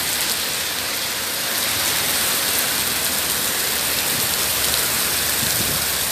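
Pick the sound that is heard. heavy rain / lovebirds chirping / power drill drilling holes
heavy rain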